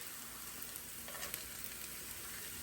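Bacon sizzles and crackles in a skillet alongside caramelizing onions, giving a steady, dense frying hiss with no talk over it.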